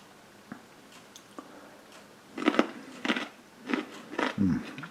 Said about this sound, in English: I'll eat this little carrot